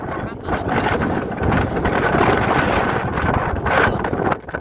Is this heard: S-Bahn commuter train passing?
no